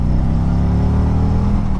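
A 2019 Harley-Davidson Street Glide Special with the 114 engine pulls steadily while cruising at around 60 mph, giving a loud, continuous low rumble with a smooth, even drone and no speech.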